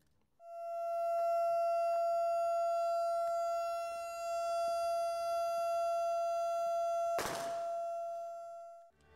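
A steady memorial siren wails at a national cemetery during a remembrance ceremony, one long sustained tone held loud and unbroken for several seconds, with a brief thud near the end and no voices.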